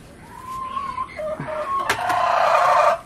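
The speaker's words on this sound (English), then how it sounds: "We got somebody squawking over here." Laying hens in a farm coop squawk and cluck on a hot early morning, several birds calling over one another at close range.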